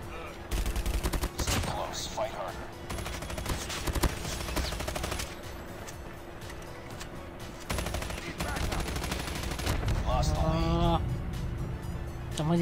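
Rapid bursts of automatic gunfire in a Call of Duty mobile gun game crackle in long volleys with brief pauses, loud and close, while a voice talks over it.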